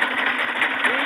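A tube well pump engine runs with a rapid, even mechanical chugging and a steady whirring rattle, close and continuous, while someone speaks over it.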